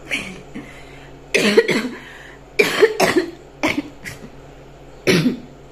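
Several separate coughs in short bursts with pauses between, fairly close and harsh, each trailing off with a rough, rattling quality.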